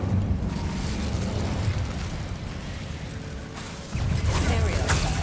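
An Incendio fire spell cast in Hogwarts Legacy, a loud whooshing burst of fire over rumbling game sound that drops briefly, then flares again with a bright crackling blast near the end.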